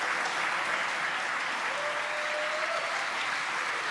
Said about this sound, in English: You can hear the applause behind us.